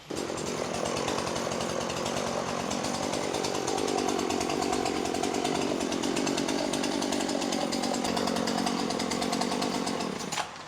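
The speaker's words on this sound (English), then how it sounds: "The chainsaw could be dangerous." A chainsaw runs loud and close without a break, its engine buzzing steadily as it bites through a tree, then cuts off at the end.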